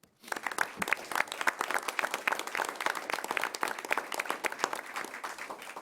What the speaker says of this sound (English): Please join me in a round of applause for Mr. Larry Fritz.